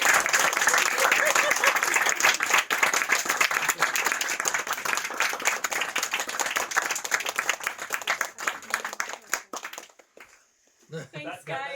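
An audience at a book launch reading in a Berlin bookshop applauds loudly and steadily for several seconds, then the clapping tapers off and a voice speaks briefly.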